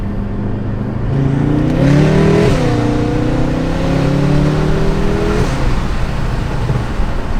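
A tuned BMW F10 M5 accelerates hard, its engine note climbing in pitch through a loud, close pull before easing off, with no talking over it.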